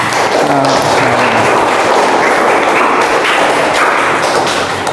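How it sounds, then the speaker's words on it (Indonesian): A classroom group of students applauds group 3, a steady, loud burst of clapping lasting about five seconds with no voices over it. "Oke, beri aplaus kepada kelompok 3."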